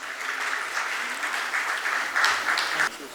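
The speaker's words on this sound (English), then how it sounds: "please give him a big round of applause" An audience at a police department event in New Town, Kolkata gives a continuous round of applause, many hands clapping steadily and fairly close, then fading abruptly near the end.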